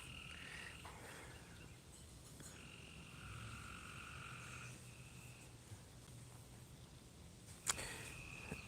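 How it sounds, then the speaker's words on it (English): Loud frogs croak outside at night, heard faintly from indoors as distant, overlapping calls in steady repeated bursts over a quiet background. A single sharp knock stands out near the end. "Don't know if y'all can hear those loud frogs."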